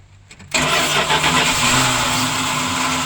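A Dodge motorhome's 360 V8 cranks and catches, the starter giving way to a loud, rough engine roar that keeps running steadily close by with no talk.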